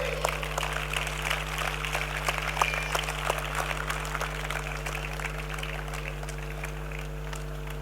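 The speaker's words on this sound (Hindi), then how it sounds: "जोरदार तालियां होनी चाहिए" Scattered applause from an audience at an inauguration ceremony, steady and moderate in level for several seconds over a constant low electrical hum, with no talking.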